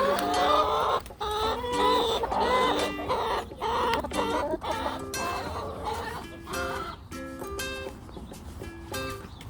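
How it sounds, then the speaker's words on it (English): Several chickens and a rooster cluck close by in a steady, busy chatter of short repeated calls, with a little voice in the background. "That's a rooster."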